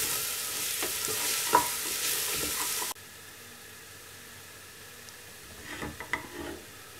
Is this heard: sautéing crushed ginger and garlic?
yes